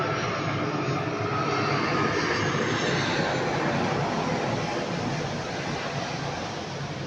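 A steady, broad roar of an airplane's engines holds at a constant level throughout, as if heard from inside the cabin, with no voices over it.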